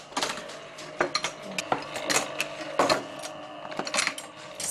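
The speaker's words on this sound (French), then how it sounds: "le livre va passer à l'encollage sur cette machine baptisée la berceuse" A bookbinding gluing machine called la berceuse runs in a workshop, giving steady mechanical clatter with repeated rhythmic clicks and knocks at moderate, close volume.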